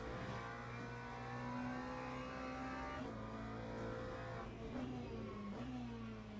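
Race car engine in Le Mans Ultimate, played in VR, holds a steady high drone with slight pitch rises and dips as the car works through long corners, continuous and alone.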